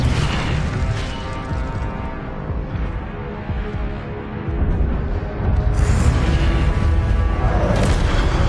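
The Incendio fire spell in Hogwarts Legacy erupts as a loud, rumbling whoosh and boom of flame, swelling twice with a low roar and crackling bursts and no talking.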